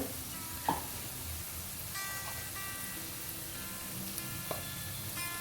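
Ginger garlic paste hits a pan of frying ivy gourd with a soft, steady sizzle, faint and close, broken by a few light clicks of stirring.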